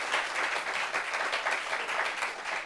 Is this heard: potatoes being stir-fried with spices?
no